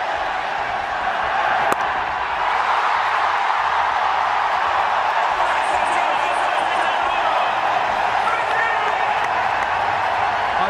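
Huge stadium crowd at a cricket exhibition match roars and cheers continuously, a dense, loud wall of noise with applause and whoops sustained throughout.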